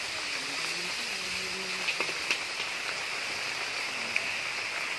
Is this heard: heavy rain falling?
yes